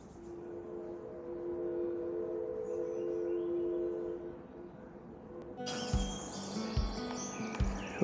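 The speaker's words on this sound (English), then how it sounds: "And the steam whistle in the background." A steady, sustained steam whistle drones from a distance for several seconds at the coast near Tillamook Bay, then gives way to outdoor noise with bird chirps.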